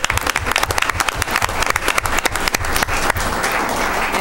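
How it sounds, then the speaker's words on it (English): A roomful of people clapping at a school board meeting, dense and steady, close and loud throughout. "we need to give her a round of applause."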